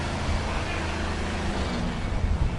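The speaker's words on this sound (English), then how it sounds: "That is one awesome car." A loud car rolls along in a Huntington Beach Fourth of July parade, its engine rumbling steadily up close over a wash of crowd and street noise, with no clear talk.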